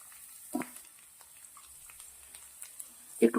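Garlic drops into hot oil in a kadai on a gas stove, giving a brief soft sizzle and a couple of quiet crackling bursts, faint and close, with a sharper spatter near the end.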